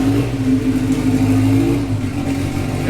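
Loud, steady engine idle of a car right after startup, running with the downpipe open underneath so exhaust escapes before the rest of the system, giving a constant low drone with a gritty rasp throughout.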